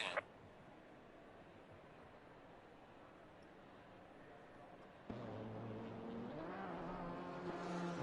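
Simulated GT4 race cars at Kyalami in Assetto Corsa Competizione, a low idling engine drone that jumps into louder revving as the field launches, with rising engine tones toward the end.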